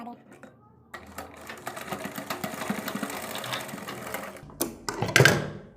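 A sewing machine stitches a dori strip for a kurti neck design in a steady mechanical run, with a voice talking briefly at the start and a louder clatter near the end.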